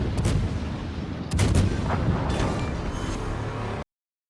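Guns of the cruiser Smolensk fire in the naval game World of Warships, heavy booming salvos with a strong burst near the start and another around a second and a half, followed by rumbling and crackling before an abrupt cut.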